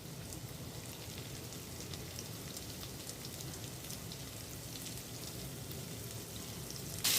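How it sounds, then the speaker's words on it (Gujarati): Ginger-garlic paste and cumin sautéing in a pan, a steady, even sizzle like light rain that holds at a low level throughout with a brief louder burst at the very end. "એને આ રીતે પ્રોપરલી સાંતળી લેવાની છે."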